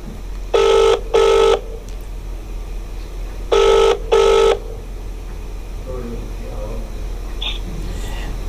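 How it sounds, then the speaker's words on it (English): Two double bursts of a telephone ringer sound during a live call-in talk show, each pair a short ring-ring pattern with gaps between, fairly loud over a low background hum, followed by quiet faint room noise. "Phone is ringing."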